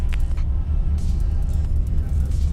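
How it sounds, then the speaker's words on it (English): Road traffic in Boston rumbles close by, a dense low drone of passing cars and engines with a brief hiss near the start, loud and steady for a couple of seconds with no voices. "Traffic."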